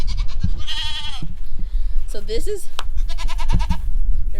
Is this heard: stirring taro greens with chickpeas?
no